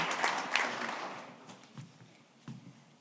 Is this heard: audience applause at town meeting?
yes